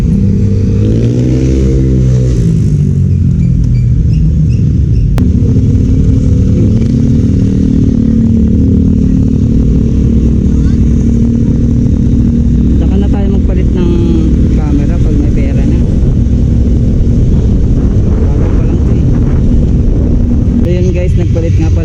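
A motorcycle rides along with a loud, close engine drone and shifting pitch, and riders talk over a Freedconn intercom above the steady road noise.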